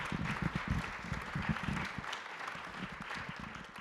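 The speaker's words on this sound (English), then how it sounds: "can give her a round of applause, that's okay." An audience at an Art For All PechaKucha event in Fort Wayne claps, the applause faint and fairly distant, rippling with uneven hand claps throughout.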